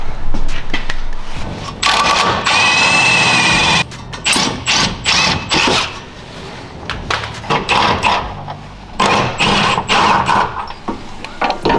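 A power tool works the bolts loose from the camber arm of a Honda Civic Si under rebuild. It comes in repeated short bursts of whirring and rattling, with a longer sustained whine early on and metallic clanks between, close and loud.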